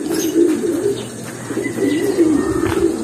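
Pigeons coo in soft, low, rolling calls close by in a loft, with faint chirps and light rustling in the background.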